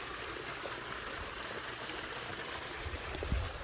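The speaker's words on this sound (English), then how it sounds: "The sound of water" Water trickling in a desert backyard near a mesquite tree, a soft, continuous babbling flow with occasional faint drips, steady and low-level throughout.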